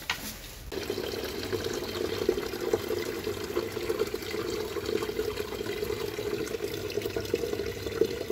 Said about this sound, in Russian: Вот здесь краники есть, можно набрать воду